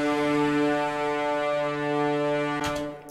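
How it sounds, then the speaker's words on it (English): Sustained orchestral horn chord from video game music, a loud, bright blast held for about three seconds before a short accent and a quick fade. "I used a slightly different sound on the horns this time because I wanted them to blast a bit more"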